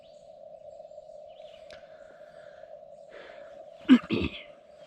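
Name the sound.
CW Morse code side tone from Lab599 Discovery TX-500 radio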